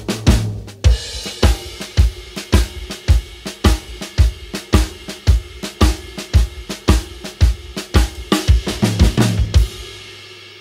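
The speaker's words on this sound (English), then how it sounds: "the shuffle is a traditional kind of blues rhythm" A drum kit plays a traditional blues shuffle in a triplet feel, with steady, evenly spaced loud hits and accents, running alone and clear for about ten seconds before stopping.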